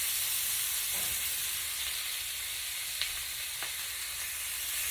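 Chicken pieces fry in a hot cast iron pan with a steady, close, even sizzle throughout, broken only by a couple of faint clicks.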